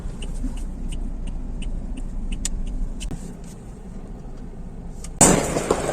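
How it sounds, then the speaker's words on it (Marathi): A Toyota Fortuner drives along a road, its cabin filled with a steady low engine and tyre rumble that continues until a sudden loud burst of noise breaks in near the end, with no voices. "आम्ही आता दादानीच गाडी चालवली पूर्ण रस्त्यात."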